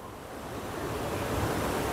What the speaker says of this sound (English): Again, just gorgeous waterfalls.